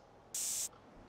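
A single short hiss of a spray can tagging a wall in GTA San Andreas, lasting about a third of a second against a quiet background.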